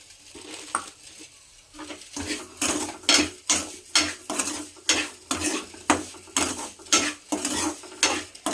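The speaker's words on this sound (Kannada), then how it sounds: "1 ಗ್ಲಾಸಷ್ಟು ಸಕ್ಕರೆನ ಇದ್ರ ಜೊತೆ ಮಿಕ್ಸ್ ಮಾಡ್ಕೊಳ್ತಾ ಇದ್ದೀನಿ" Sugar is stirred into semolina for kesari bath, with a spoon scraping the pan in rhythmic strokes roughly every half second, loud and close, over a faint sizzle.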